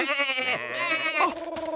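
Cartoon sheep bleating in a short burst of wavering, nasal cries, close and clear, with a brief musical tone at the end.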